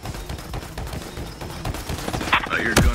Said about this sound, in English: They got me pinned. I hear gunfire.